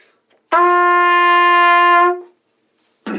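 A trumpet holds a single open G as a long, steady tone for about two seconds, clean and alone, before a short burst of noise at the end.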